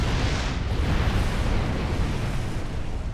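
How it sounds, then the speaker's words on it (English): Explosions from Klingon ships bombing a base in a game, heard as a continuous dense roaring blast that stays loud and steady for about three seconds with no voices. "Q, how many confused Klingons just bombed the base?"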